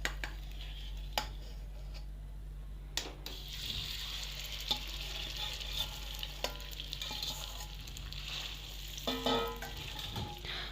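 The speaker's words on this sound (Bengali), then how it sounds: "এই ভাতের পেস্টটা ভেজে নেব।" Rice paste frying in melted ghee in a pan over a low flame while it is stirred. A quiet, steady sizzle runs throughout, broken by occasional scraping and clinking from the stirring utensil.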